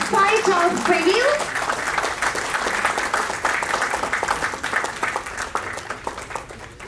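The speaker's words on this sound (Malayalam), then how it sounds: "നല്ലൊരു കയ്യടി കൊടുക്കാം" An audience at a website launch applauds loudly and steadily, the clapping fading gradually over several seconds after a voice speaks briefly at the start.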